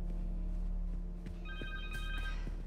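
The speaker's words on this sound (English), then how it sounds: "Oh. Phone." A phone rings in the Spider-Man 2 video game, a steady electronic ringtone running as a single pattern of repeating tones over a constant low background hum, with no talking.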